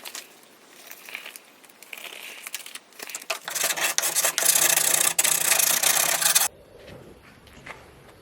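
A scraper works paint remover off wooden trim, the blade rasping and scratching in uneven strokes that build into a loud, continuous grinding scrape before cutting off abruptly.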